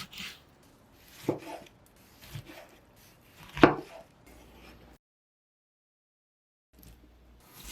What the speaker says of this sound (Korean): 토마토는 작은 큐브 모양으로 썰어 볼에 넣을게요.